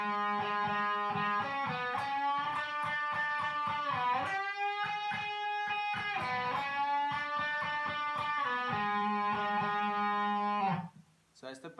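Distorted electric guitar plays a riff, bending notes up and down the fretboard in a repeating chugging pattern, loud and up close, then cuts off abruptly near the end.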